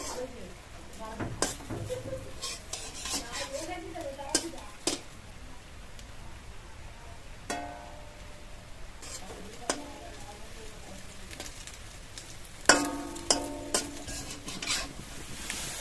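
Egg and cabbage fry in oil in a wok while a utensil stirs and scrapes, producing a soft sizzle with repeated sharp clinks and scrapes, sparse and close.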